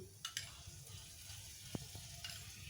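Sweet yogurt goes into a paneer masala frying in oil, bringing a faint steady sizzle with a few soft clicks and taps from the pan.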